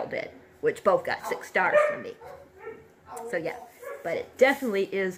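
Dog barking and yipping in short bursts indoors, close and fairly loud, mixed right in with someone talking throughout.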